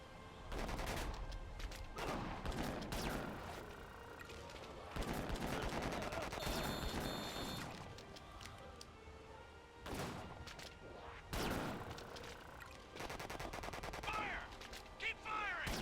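Gunfire rattles in the video game Disaster: Day of Crisis, with repeated loud bursts of rapid shots separated by short pauses and voices heard between volleys.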